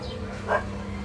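A single short dog bark, faint and somewhat distant, rises briefly over a low steady background hum.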